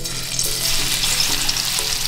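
Crushed garlic sizzles in hot oil in a wok for tempering. It makes a short, steady, close frying hiss with fine crackle and no voices.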